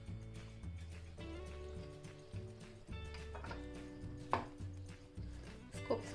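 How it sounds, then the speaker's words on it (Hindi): A knife dices ginger and garlic on a cutting board for stuffed garlic bread, making quick, fairly regular close taps that run steadily over a low background hum, with a couple of sharper knocks near the end. "जिंजर और गार्लिक ये फाइनली डाइस हो चुके हैं।"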